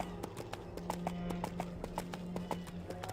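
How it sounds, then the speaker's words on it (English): In the video game EverQuest 2, a horse mount's hooves clip-clop in a quick, steady galloping rhythm, loud and close, over a low sustained hum. "Horse noises are very loud as well."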